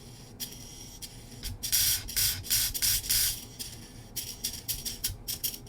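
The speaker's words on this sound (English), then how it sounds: "we're going to go ahead and just plug it in and test our servo before we get it all back together" Short bursts of high whirring from an RC servo motor on a Mini Z MR-03 being bench tested after a gear upgrade to Delrin and metal, several quick runs stopping and starting, close and fairly quiet.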